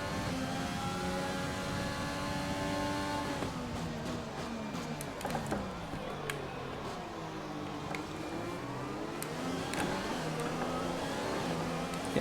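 Racing car engine in a wet race in F1 2020, revving and shifting through gears with rising and falling whine, steady and close, with no talking.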